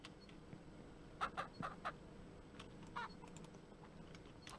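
Farm chickens in the video game Ranch Simulator cluck in a few short, quiet bursts against a faint background, with clicking sounds between them.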